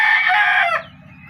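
A rooster crows loudly and close, a long strained call that breaks off, with faint clucking from hens and stags underneath.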